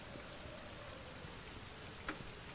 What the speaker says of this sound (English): It's still raining. It's been raining for like 2 days.